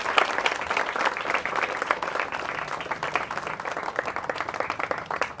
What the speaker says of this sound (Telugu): సో అందరు ఒకసారి అన్న క్లాప్స్ కొట్టాలి,